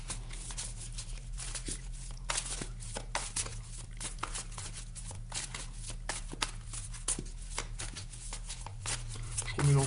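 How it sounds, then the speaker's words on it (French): A deck of tarot cards is shuffled close by for a long stretch, with steady riffling and slapping card sounds continuing throughout at a fairly even level. "Je remélange bien le jeu pour vous."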